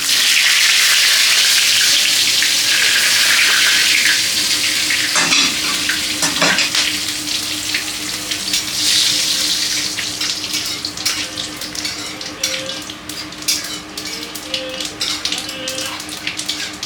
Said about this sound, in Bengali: এগুলো ফোড়নে দিয়ে দিব।